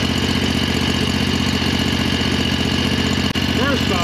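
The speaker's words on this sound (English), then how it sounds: "We're gonna turn it on while it's in the air and hit the governor just to see how high she will rev." A 670cc engine runs with the wheels off the ground, a loud, close, steady mechanical drone with dense vibration that holds an even pitch throughout, with no clear climb in revs.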